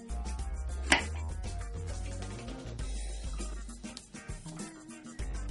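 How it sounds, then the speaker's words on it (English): A sharp knife trims excess short crust pastry around pie shells in a muffin tin, giving soft cutting scrapes and taps against the tin, with one sharp knock near the start and some low rumble under it. "Simply just trim off any extra pastry with a sharp knife."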